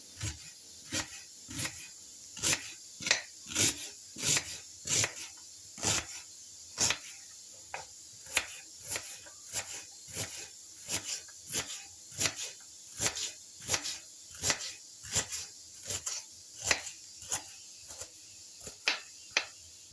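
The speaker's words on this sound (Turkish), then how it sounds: "Şimdi doğramaya başlıyorum." Close, steady knife chopping of an onion on a cutting board, sharp taps repeating about twice a second for the whole stretch, with no talking.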